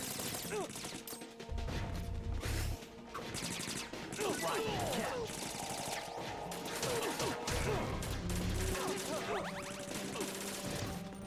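Enemy gunfire in the stealth game Metal Gear Solid 2: Sons of Liberty, scattered shots and impacts mixed with game music and clatter over about eleven seconds, with a voice talking at times.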